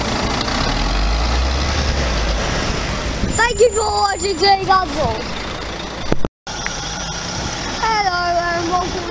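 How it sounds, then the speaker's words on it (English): A large rail replacement bus engine rumbles and idles close by at Camberwell, with a hiss of air brakes and a voice speaking over it. "another Limited Express bus going to Parliament on a train replacement"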